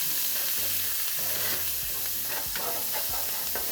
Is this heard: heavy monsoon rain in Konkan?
no